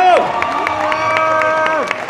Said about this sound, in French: Je vous demanderai d'applaudir Dan Cardozo, s'il vous plaît.